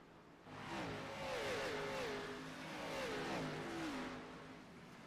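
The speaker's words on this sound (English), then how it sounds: "Somebody's shifting. I could hear it, the engine rev." Race car engines in a sim racing Grand National playoff race at New Hampshire rev and climb in pitch, then drop with gear shifts, a couple of rising and falling sweeps at moderate loudness, alone without talk.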